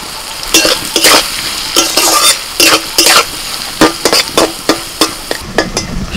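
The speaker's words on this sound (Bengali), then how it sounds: "সবজিগুলো ভাজা হয়ে গেছে।" Chopped vegetables with green chilli and onion stir-fry for egg fried rice, with loud, rhythmic scraping and clanking of a spatula against the pan in repeated strokes over a continuous sizzle.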